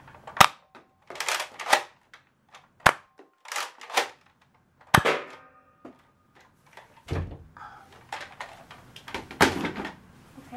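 A toy gun fired repeatedly indoors, sharp snappy pops spaced irregularly, some close and loud, with clicks and handling noises between shots.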